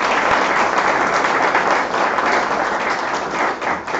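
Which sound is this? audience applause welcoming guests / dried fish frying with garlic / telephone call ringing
audience applause welcoming guests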